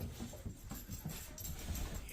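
A dog just back from exploring in the cold whimpers and pants softly at close range, with quick breathy puffs and faint whines in an uneven rhythm.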